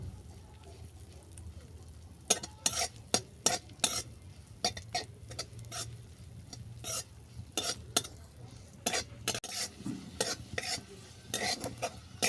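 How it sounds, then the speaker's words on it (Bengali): Cashews and raisins being fried in a pan, heard mainly as irregular sharp clicks and scrapes of a spoon stirring against the pan over a faint low sizzle. "আর কুঁচানো কিশমিশ কাজু আর কিশমিশ বাদামি করে ভেজে নেবো"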